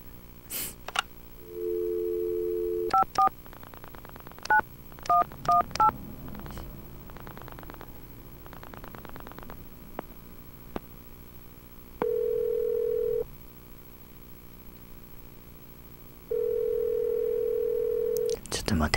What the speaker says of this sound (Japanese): これであの親父に電話かけられる。